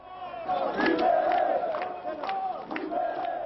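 In the former Zaire in 1997, a dense crowd cheers and congratulates Laurent-Désiré Kabila's young victorious soldiers at the fall of Mobutu's regime: loud, sustained massed shouting and cries with overlapping voices throughout.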